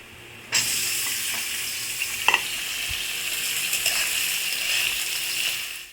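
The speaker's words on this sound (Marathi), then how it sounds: "आपली साबुदाणा खिचडी बनते आहे" Sabudana khichdi frying in a pan, a steady close crackling sizzle that starts abruptly and holds throughout, with a few stirring clicks and scrapes.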